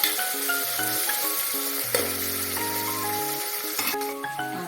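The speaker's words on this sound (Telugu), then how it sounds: "ఇప్పుడు ఈ అల్లం వెల్లుల్లి పేస్ట్ పచ్చివాసన పోయేదాకా మనం ఫ్రై చేసుకుందాం" Ginger garlic paste frying in a pan, giving a steady, even sizzle that runs throughout with melodic background music over it.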